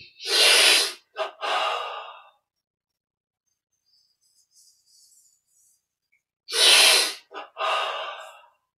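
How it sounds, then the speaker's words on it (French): Deep, audible inhaling breaths during a guided meditation, two long airy intakes with short follow-up breaths, close and fairly loud, separated by a quiet pause with faint background sounds. "On inspire, on laisse l'énergie rentrer à l'inspire."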